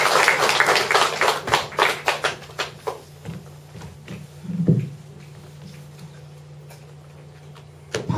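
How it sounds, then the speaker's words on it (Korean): Scattered applause from a lecture audience at a library poetry workshop, with several sharp claps early that thin out into sparse, quieter claps and then fade to near silence. "여러분 큰 박수로 환영해 주시기 바랍니다"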